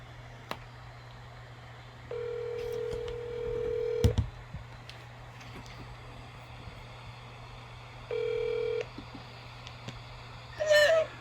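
A telephone call is placed with a few separate dialing tones, each a short steady beep, over a low constant hum, with a brief clatter between them.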